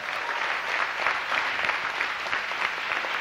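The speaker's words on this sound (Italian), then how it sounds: "Bel applauso per Otar che se lo merita." Studio audience at an Italian MTV music show breaks into steady, even applause, a dense wash of clapping heard alone at moderate level without voices.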